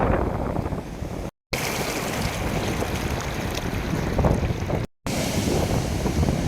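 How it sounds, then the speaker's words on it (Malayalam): Strong sea waves roar along a fishing shore, a loud, continuous wash of surf and wind buffeting the microphone, broken by two brief dropouts. "തിരമാലകളിൽ മലയടി തുടങ്ങിയിട്ടുണ്ട് ശക്തമായ തിരമാലയാണ്"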